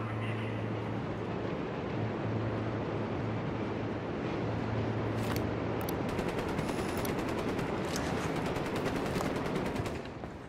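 Gunfire in the video game Ghost Recon Wildlands, a dense continuous crackle of rapid automatic shots that grows sharper and more rattling in the second half, loud and unbroken with no talking.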